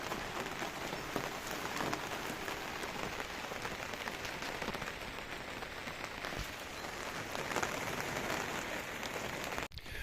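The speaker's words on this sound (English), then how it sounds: "I might wait till the downpour stops." Heavy rain pouring down in Ireland, a dense steady patter drumming on surfaces close by, continuous and without voices.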